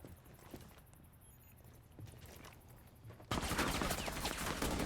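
Gunshots in a competitive video game match, sparse faint shots at first, then a sudden loud stretch of dense gunfire in the last second and a half.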